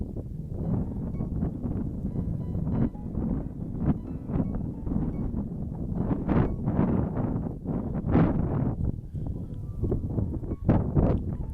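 Outdoors, wind buffets the microphone in a steady, dense low roar with irregular gusty thumps throughout, close and loud, with no talk.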